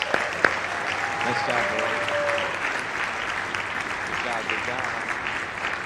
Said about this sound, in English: Let's give it another round of applause.